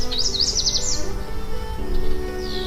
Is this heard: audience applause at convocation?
no